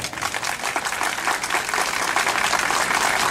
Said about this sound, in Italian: Adesso il pubblico applaudirà e noi vedremo fino a che punto arriverà la tua percentuale